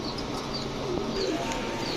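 A black Musaldam pigeon, one of many at a fancy pigeon farm, gives faint, low cooing against a steady, noisy background, with no clear voices.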